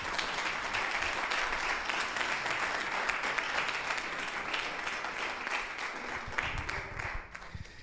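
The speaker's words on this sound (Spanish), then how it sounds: "Otro fuerte aplauso, por favor." An audience breaks into sustained applause at a jazz encyclopedia presentation, a dense, even wash of clapping that carries on throughout and tapers slightly at the end.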